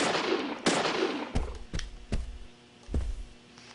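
Gunshots from the video game Deadly Premonition ring out as a few sharp, separate cracks spaced over a few seconds, each with a short echo tail, following a louder burst at the start.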